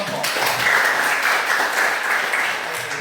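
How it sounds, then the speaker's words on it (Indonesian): A classroom of students applauds all the presentation groups, producing a loud, dense and steady wash of clapping that fills the whole stretch from start to finish without talk. "tepuk tangan untuk semua kelompok"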